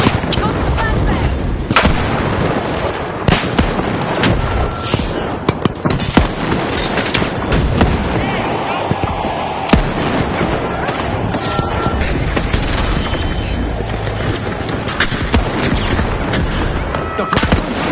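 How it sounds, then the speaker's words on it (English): Dense, continuous video game combat with rapid gunfire and flashbang and grenade explosions, loud and chaotic throughout with voices mixed in. "Toss the flashbang!"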